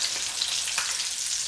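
Garlic chicken wings frying in hot oil during a first fry, a loud, steady hiss of bubbling oil with light crackle and no one speaking.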